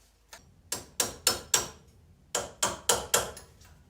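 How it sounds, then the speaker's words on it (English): A metal brake pin tapped against a plastic brake pin on a 2003 Toyota Sequoia front brake, producing eight sharp, close metallic taps in two quick groups of four with a short pause between. "take a brake pin that you take out from the brake, set it on the plastic pin, and just tap tap"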